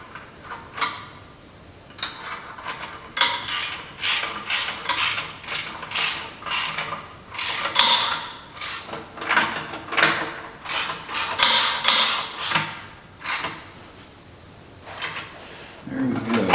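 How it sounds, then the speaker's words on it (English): Wrench tightening a part on a Farmall Super H tractor under restoration: a quick, rhythmic series of ratcheting clicks and metallic creaks in repeated strokes, close and fairly loud, continuing steadily throughout. "let me see if I get this tightened up"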